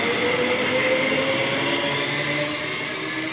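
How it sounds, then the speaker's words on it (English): A train pulls out of Nundah station in Brisbane, its steady rumble and rail noise holding loud and continuous throughout, easing only slightly toward the end. "There goes the train."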